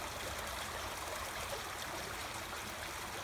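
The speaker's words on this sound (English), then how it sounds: "And this is the creek" Creek water flowing steadily through overgrown land in South Reno, a constant soft rushing and trickling murmur with no breaks, close and even throughout.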